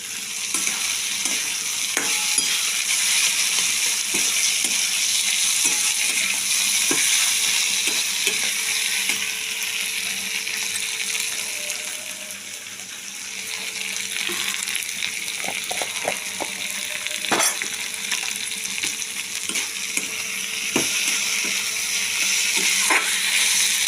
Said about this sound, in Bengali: এবার আলুটা কুচি করে দিয়ে দিলাম